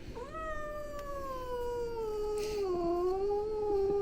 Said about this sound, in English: This is our girl cat, our happiest addition to our new home.